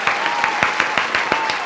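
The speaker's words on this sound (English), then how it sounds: "make a clap for the justice. Make a clap." A studio audience claps for justice during a talk show, with loud, close, steady applause and sharp individual claps landing in an even rhythm throughout.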